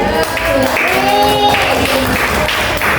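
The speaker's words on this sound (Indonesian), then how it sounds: "Tepuk tangan untuk Mbak Olin." Classroom applause for a fourth-grade pupil during an educational lesson, a loud steady wash of children clapping close by, with a sustained tonal sound and some voices mixed in throughout.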